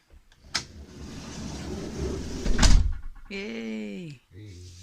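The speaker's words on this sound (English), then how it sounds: "Door shut." A wooden van kitchen door built from 140-year-old church pitch pine shuts with a single close thump after some faint handling noise, and a voice follows straight after.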